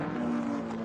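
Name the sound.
D-type Jaguar racing car at Goodwood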